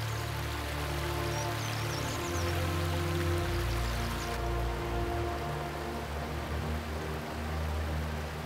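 Water flowing steadily in the Bangucheon stream near the petroglyph rocks, a constant close rushing and trickling wash with a low hum beneath it.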